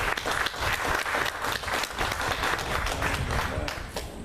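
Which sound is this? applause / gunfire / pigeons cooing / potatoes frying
applause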